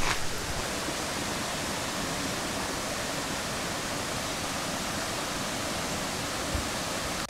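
Rushing water of a mountain valley stream near Surak Falls in Gyeongban Valley, Kalbongsan, flowing between peaks into pools; a steady, dense, close roar of water runs unbroken throughout with no voices.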